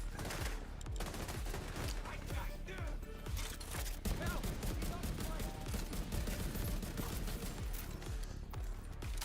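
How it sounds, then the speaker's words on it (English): Sustained automatic gunfire from blind firing in the video game The Division 2, rapid dense bursts that run nearly without pause, loud and close, with a voice talking over it at moments. "Blind firing feels amazing."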